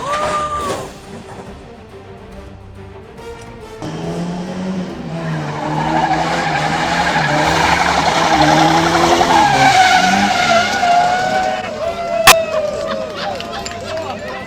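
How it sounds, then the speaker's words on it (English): Tires of a drifting car squeal and skid in a long, loud, wavering screech that rises and holds, with people talking and reacting over it and a sharp knock near the end. "Drifting smoothly, but the tire just decided to take its own path."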